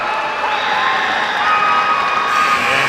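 Crowd at a high school state basketball tournament game, a sustained roar of cheering and shouting voices from a packed gym, loud and continuous without a break.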